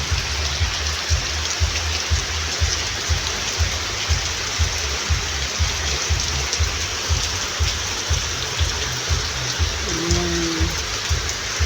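Heavy rain pours onto plants and a yard seen from a balcony in the Philippine countryside, a loud steady wash with a rhythmic dripping pulse underneath and a brief faint tone near the end.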